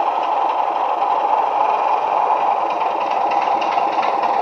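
A Heljan Class 27 model diesel locomotive with an ESU version 5 sound decoder plays a continuous, even engine drone like an idling diesel, steady in level throughout with no talking.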